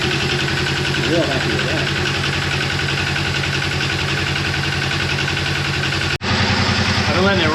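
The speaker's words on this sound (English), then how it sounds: "I've been letting it run now for probably, I don't know, 5 minutes." A Razor 900 engine idles loud and close after a valve adjustment and cam installation, a steady even rumble that someone talks over. The sound drops out for a split second near the end, then resumes.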